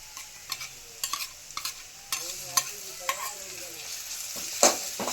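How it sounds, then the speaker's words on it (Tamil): Ginger garlic paste sautéed with softened onions for a mutton dish, stirred with repeated crisp spoon taps and scrapes against the pan over a light sizzle, close, with no talking. "இப்போ வந்து இதில் கொஞ்சம் இஞ்சி பூண்டு பேஸ்ட் வந்து சேர்த்துக்கலாம்."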